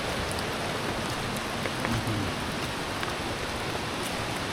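Steady rain falls in a dense, even hiss with scattered drop patters on a narrow, slippery path to Khun Korn Waterfall, loud and continuous with no talking.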